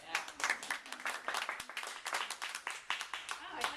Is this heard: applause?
yes